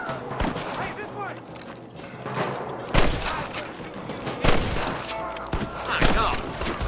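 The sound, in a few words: gunfire in the video game Red Dead Redemption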